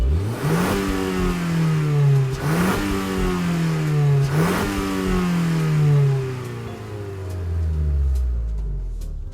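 A 2001 Renault Kangoo 1.4 engine in Gran Turismo 7 revs up repeatedly in rising sweeps, then drops to a low idle rumble, loud and close with no talking.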